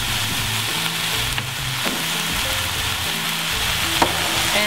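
Chopped tomatoes with cinnamon and allspice sizzle and fry in a pan for a green bean and tomato stew, a steady close crackle with faint scraping stirs and no talking.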